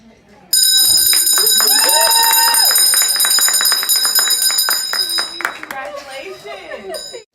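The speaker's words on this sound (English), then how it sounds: "you open your eyes and you ring the bell" A small handheld wish bell at a bridal shop rings loudly and repeatedly, its bright metallic tones sustaining for several seconds, with voices and cheering mixed in over the ringing.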